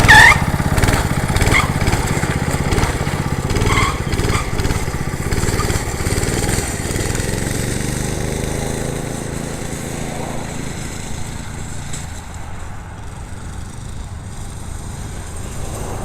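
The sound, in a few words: go-kart engine running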